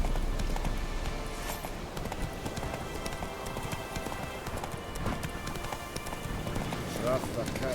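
A horse gallops steadily in The Witcher video game, with rapid hoofbeats running continuously under a dense bed of game ambience and background noise throughout.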